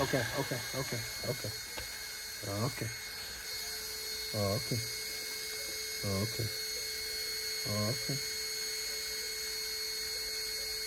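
The brushless motor of an HSP Octane RC car is held at full throttle, giving a steady high-pitched whine. Several voices talk in short bursts over it.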